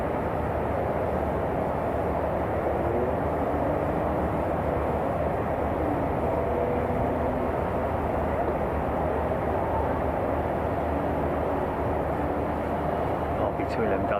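Continuous broadband roar of jet airliner engines, likely CF6 turbofans, at Miami International Airport, a steady wash of noise at constant level with faint tonal whine underneath.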